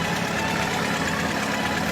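A 1920s four-cylinder gasoline tractor engine runs steadily, a loud close continuous rumble with a fast even mechanical chatter and no pauses.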